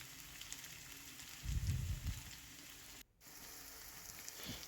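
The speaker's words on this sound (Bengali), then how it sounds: "আলুটাকে বেশ ভালো করে লাল লাল করে ভেজে নিচ্ছি" Potatoes frying in oil, a faint, steady sizzle with a brief louder crackle in the middle and a short sudden drop to near silence.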